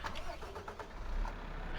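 A truck engine starts up in Farming Simulator 15, cranking and catching into a low, steady rumble that is heard faintly and continuously throughout.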